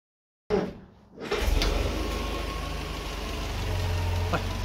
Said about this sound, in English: I cannot get over how sweet that engine sounds. It's magic. It's so smooth.